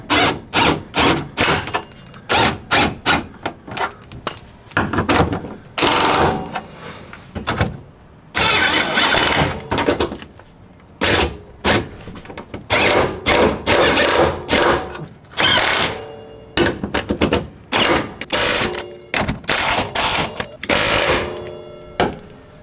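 An impact power tool tightens rear subframe bolts on an S14/S15 Nissan Silvia in many loud, close bursts of rapid hammering, separated by brief pauses.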